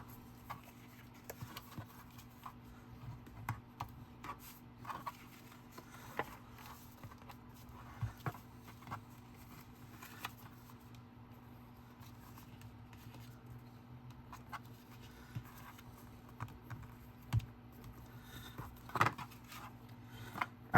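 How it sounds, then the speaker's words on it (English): Pattern paper folded and burnished for a handmade card, quiet scattered taps and short rubbing strokes spread across a long stretch under a low steady hum. "So let's go ahead and we will fold and burnish all of those."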